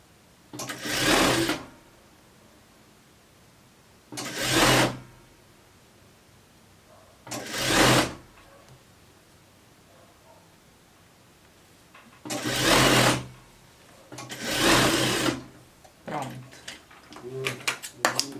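A domestic sewing machine stitches a sweatshirt-and-skirt set in five short bursts of rapid whirring, each a second or so long, separated by quiet pauses with faint handling sounds.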